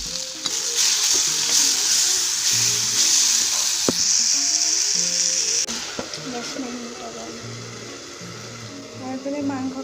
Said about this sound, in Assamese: এইফালে মাংসৰ কাৰণেও তেল গৰম হৈছে